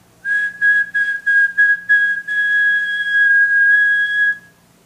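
A person whistles to imitate blowing wind, starting with a run of short pulsed whistles before settling into one long sustained high tone, clear and close with no other sounds.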